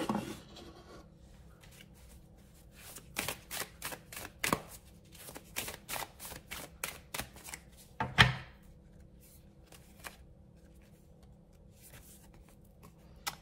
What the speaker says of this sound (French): je vais tirer 2 dernières cartes